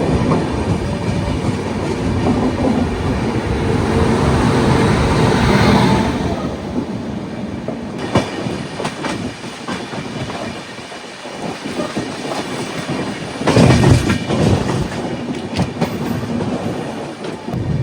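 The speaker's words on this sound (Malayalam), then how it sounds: "ഇങ്ങനെ പയ്യെ ഇങ്ങനെ ഉരുട്ടിയാണ് വണ്ടി പോയിക്കൊണ്ടിരിക്കുന്നത് കേട്ടോ" Jayanti Janata Express train rolling slowly along the rails, a steady close rumble of wheels with rhythmic clickety-clack and a louder surge of rattling near the end.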